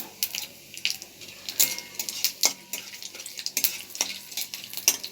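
Whole bay leaf, garam masala and cumin being stirred in hot oil, with a steady sizzle and repeated light scraping taps of a spoon against the pan at close range.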